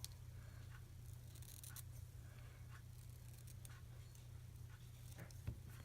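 Scissors snip through a Halloween costume piece in a quiet room, a series of faint, light cuts and scrapes spaced irregularly over a low steady hum.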